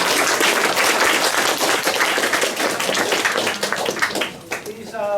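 Dense applause from an audience at a community development gathering in Cambodia, loud and sustained, with many overlapping claps that thin out and fade near the end as a voice begins.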